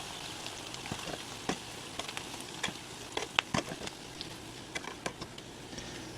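Homemade cheesy buffalo chips frying in grease, a faint steady sizzle dotted with scattered small pops and crackles, close and without talk.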